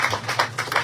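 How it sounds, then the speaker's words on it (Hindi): Brief burst of hand clapping from a crowd at a Krishna Janmashtami religious gathering, a handful of soft rhythmic claps in under a second, close and moderately loud. "और ताली बजाकर धन्यवाद"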